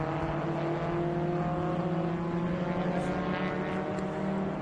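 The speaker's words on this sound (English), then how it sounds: "that's the 230 there of Russell Jones in a 68 Alfa Romeo GTV" A 1968 Alfa Romeo GTV race car at VIR's Oak Tree turn, its steady engine drone humming with tonal harmonics at a moderate distance, continuous and unbroken throughout.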